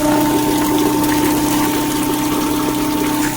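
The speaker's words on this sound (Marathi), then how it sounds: "आता मी कूलरमध्ये पाणी भरत आहो" A steady, droning water pump hums continuously with rushing water filling an air cooler, loud and unchanging, with no talking.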